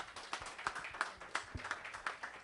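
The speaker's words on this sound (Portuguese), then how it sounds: "aplauda mais uma vez bem forte ao Senhor" Church congregation clapping in a rough steady rhythm, fairly quiet and somewhat distant, with sharp individual claps standing out over a soft crowd wash and no speech.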